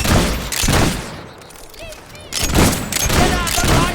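Bursts of gunfire in the video game Fable 3, loud dense volleys at the start and again near the end, with a brief quieter stretch between them.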